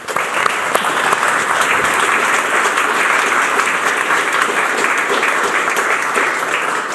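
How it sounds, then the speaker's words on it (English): Loud, dense applause from a sizable audience, steady and sustained throughout before tapering slightly at the end. "Big round of applause for them."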